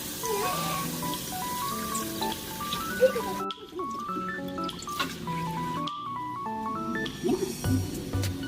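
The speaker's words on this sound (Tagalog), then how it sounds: "Lagyan po natin yung gatas." Milk pours into a cooking pan for homemade cheese sauce, a light trickling, dripping liquid sound heard close by under steady background music.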